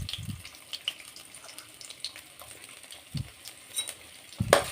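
Chopped garlic and ginger sizzle softly in hot oil, a low steady crackle broken by a few brief clinks and stirring scrapes, with no one speaking.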